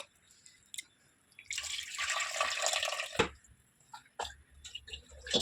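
Tamarind juice is poured into cooked dal for Andhra-style sambar, a steady splashing pour lasting a couple of seconds, followed by a few close drips and light clinks of a vessel.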